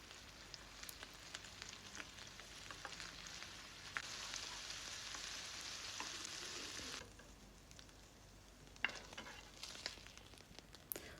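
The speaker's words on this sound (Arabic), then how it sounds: "في طاسه تانية هنحط قطعه زبده، شويه زيت صغيرين، وننزل بقى بالكفته بتاعتنا." Kofta frying in a pan with butter and a little oil gives a faint, steady sizzle with scattered sharp crackles and pops, easing off toward the middle before picking up again.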